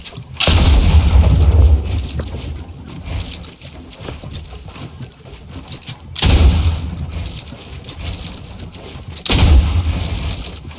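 Three heavy booming gunshots in a competitive video game, each a loud abrupt blast spaced several seconds apart, with softer clicks and shuffling movement sounds between them.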